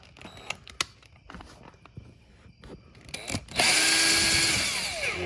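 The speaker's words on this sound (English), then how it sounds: "First you're gonna take a drill bit, it's a Phillips, put it in the drill, and you're going to unscrew" Power drill fitted with a Phillips bit unscrewing the screws of a Corvette seat: a few clicks and handling knocks, then a loud, close, sustained whirring drill run near the end.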